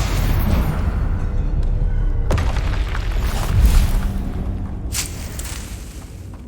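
A Stupefy spell cast in the Hogwarts Legacy video game, heard as a loud, booming magical blast with a sharp burst partway through, over rumbling game ambience and without commentary.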